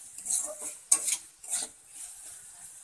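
Chicken masala stirred in a frying pan, with a few quiet metallic scrapes and clinks of a spoon against the pan at a gentle, uneven pace and little audible sizzle.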